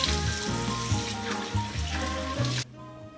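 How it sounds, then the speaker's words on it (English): Running water from a sink tap splashes steadily as a face is washed, close and continuous for about three seconds before the flow cuts off abruptly. "I am going to wash my face"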